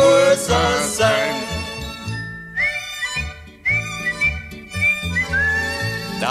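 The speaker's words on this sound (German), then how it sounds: "einen Pfiff hast du ja noch wie ein Junge" A person whistles a bright, sliding melody over band music in a 1977 Viennese song medley, several rising whistled phrases standing out above the accompaniment.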